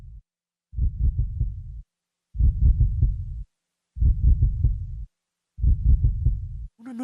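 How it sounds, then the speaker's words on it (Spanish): A heartbeat sound effect thumps in four evenly spaced, low, booming pulse clusters, each steady and heavy, with a brief brighter tone right at the end. "el latido crecía cada vez más"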